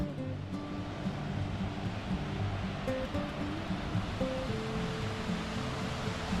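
A waterfall in the Selkirk Mountains, reached by a short walk through shaded forest, gives a steady, broad rushing roar that stays constant throughout, moderately loud and alone.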